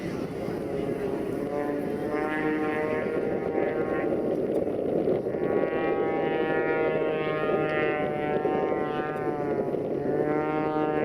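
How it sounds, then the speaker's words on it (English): Oracle Challenger aerobatic aircraft with a 400-horsepower engine hovering on its tail at an air show at the Andrews Air Force Base open house; a loud, steady propeller drone whose pitch wavers and swells throughout. "stand this aircraft on its tail and bring it to a hover in front of you"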